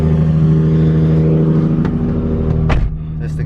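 A 650whp RB25-engined Nissan S15 idles with a deep steady burble heard from inside the car, then gives a brief blip near the end, loud and close.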